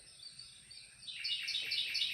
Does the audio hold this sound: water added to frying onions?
no